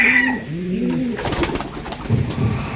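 Racing pigeons coo in a loft, several low, rolling calls repeating close by with soft rustling and background noise between them.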